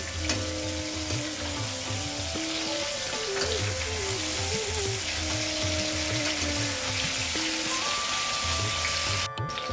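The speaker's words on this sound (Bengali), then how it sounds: "এরপর পাল্টিয়ে আরেক পাশ ভালো করে লাল করে ভেজে নেব" A fish head fries in hot oil over a high flame, a loud, steady sizzle and crackle that carries on without a break, with a kitchen hum underneath and no talking.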